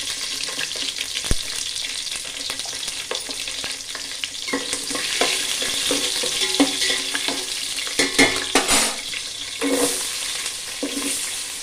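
Cinnamon bark and fennel seeds sizzle in hot oil as a tempering for seeraga samba rice, a steady close frying hiss with some stirring, no voices.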